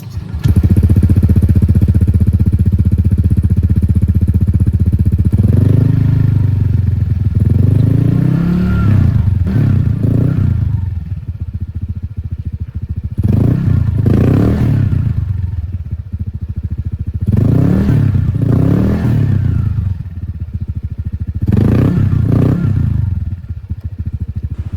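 A motorcycle ridden to break in new Faito brake shoes, the engine droning loudly and steadily with several surges of revving and clatter, close to the listener.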